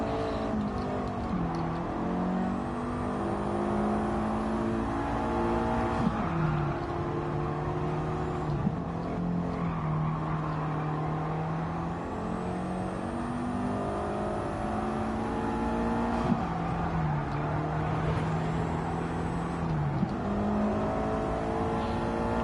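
A 1990s Toyota engine pulls through the gears in Gran Turismo 7 on the Special Route X track, steady and close, its pitch climbing with each rev and dropping sharply at every shift, with no talk.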